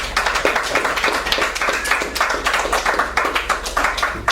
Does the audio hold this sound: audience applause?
yes